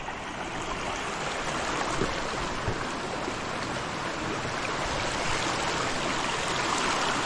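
Steady rushing water flows without pause, a dense broadband wash like a stream or river running close by, with no voices.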